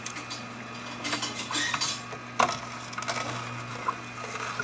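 An Omega 8004 juicer crushes celery with a steady, close motor hum, broken by irregular crunching and clattering knocks as the stalks feed through.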